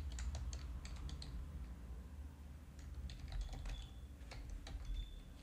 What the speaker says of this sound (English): let me type it here and it will tell you.